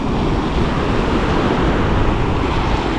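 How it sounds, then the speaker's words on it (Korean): Strong wind and heavy surf roar continuously at Miami beach, a dense broadband wash with gusty wind noise buffeting the microphone and no voices. "와 근데 바람 진짜 잘 불어"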